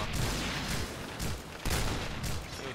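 Gunfire from an SVU rifle in the shooter game Point Blank: several sharp, loud shots crack in quick succession, spaced unevenly, with no talk.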